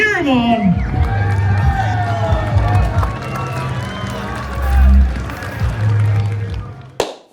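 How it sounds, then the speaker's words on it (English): A crowd at a nationals competition cheers, whoops and claps for a competitor, loud and sustained with shouting voices and a swell of cheering near the middle before it cuts off abruptly. "come on, cheer him on"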